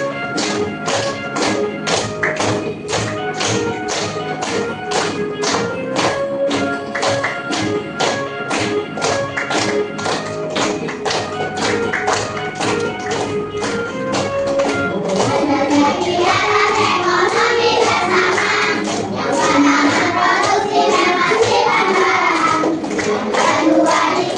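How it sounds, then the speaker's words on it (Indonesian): A classroom of fourth-grade primary school children clapping their hands together in a steady rhythm alongside sung, musical tones, growing denser and louder in the last third. "kita sama-sama tepuk tangan"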